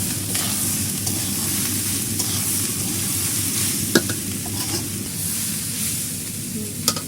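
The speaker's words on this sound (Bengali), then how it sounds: "নাড়াচাড়া করে প্রচুর পরিমাণে নাড়াচাড়া করতে হয়" Fried rice with turmeric sizzling in a pan over a wood-fired stove, steady frying hiss with scraping stirring strokes and a couple of sharper utensil knocks.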